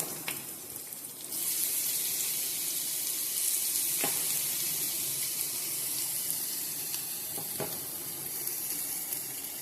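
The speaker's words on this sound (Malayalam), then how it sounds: "എണ്ണ ചൂടായി കഴിയുമ്പോൾ അതിലേക്ക് കുറച്ച് കറിവേപ്പില ഇട്ട് കൊടുക്കുക" Curry leaves and onions drop into hot oil and set off a loud, continuous hiss that holds throughout, broken by a few sharp pops or spatters, with no voices.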